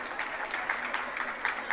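An audience claps in a soft, scattered patter, quick uneven hand claps heard at a distance across the whole moment.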